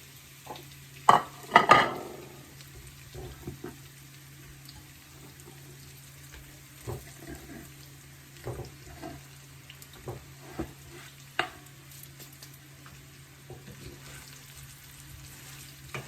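Bottle gourd muthiya dumplings hit hot oil with sesame and mustard seeds in a brief loud sizzle, which settles into a quiet crackle of frying with occasional clinks of stirring.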